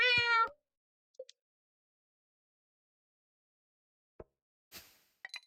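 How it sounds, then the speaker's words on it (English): A short cat meow from the Stardew Valley farm game opens the sequence, followed by quiet gaps and a few soft clicks and brief interface blips later on. "I have to pet the cat first."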